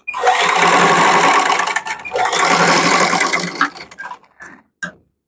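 A sewing machine stitches a blouse in fast, continuous runs that break into shorter bursts and stop near the end. The machine is close and loud, with no talking.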